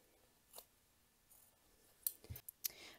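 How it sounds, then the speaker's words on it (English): Scissors snip off zipper tape after sewing on a Janome C30 machine project, a few faint, quiet close-up cuts and clicks with near-silence between them. "I'm going to take some scissors and just trim off the zipper tape."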